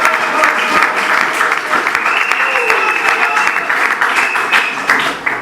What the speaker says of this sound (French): Applaudissez pour Sylvain Mutombo.